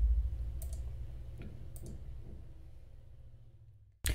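Sparse mouse clicks and a few keystrokes on a computer while a captcha is filled in, faint and close over a low steady hum. A sharper click lands at the very end.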